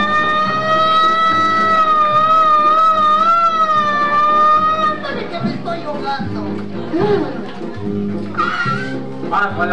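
A police siren warbles loudly for several seconds, then gives way to shouting voices and commotion.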